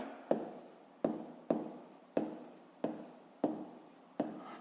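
Pen writing by hand on paper during a fifth-grade maths exercise, a steady series of about seven scratchy strokes with short pauses between them, close and fairly quiet, with no talking.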